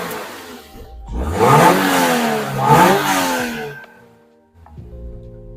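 A 2024 Subaru BRZ TS engine revving hard from inside the cabin, rising in pitch through two pulls with a gear change between them, then dropping back to a quiet idle-like hum.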